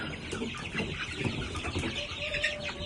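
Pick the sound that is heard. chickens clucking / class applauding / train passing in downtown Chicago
chickens clucking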